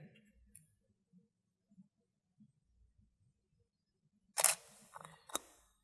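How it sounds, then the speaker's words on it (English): A DSLR with an 18–55 mm kit lens fires its shutter for a test shot: a crisp double click near the mic, then a second, fainter click, after quiet room sounds. "let's take a little test shot here."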